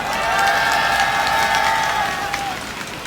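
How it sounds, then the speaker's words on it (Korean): At a Korean street rally of resigned medical residents and students, the crowd applauds the police: dense clapping with cheering and a steady whistle-like tone, all fairly loud and continuous before easing off. "여러분, 고생하시는 젊은 경찰분들 위해 격려의 박수 한번 부탁드리겠습니다."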